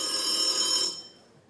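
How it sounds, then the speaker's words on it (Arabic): An old telephone ringing: a loud, continuous bell trill with rapid metallic clatter that cuts off abruptly after under a second, leaving a faint fading residue. "مش ممكن التليفون القديم ده"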